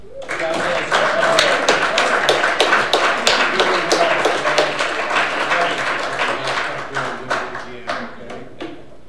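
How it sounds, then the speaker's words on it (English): An audience claps at an American Legion oratory contest after a winner is announced, a dense run of sharp overlapping claps that stays strong and thins slightly toward the end, with a voice speaking over it. "Let's give him a round of applause."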